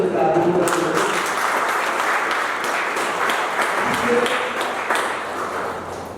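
An audience at a devotional gathering breaks into applause, a dense clapping wash that lasts several seconds and slowly fades, with a voice speaking over part of it.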